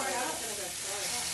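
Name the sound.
onion sizzling while frying on a barbecue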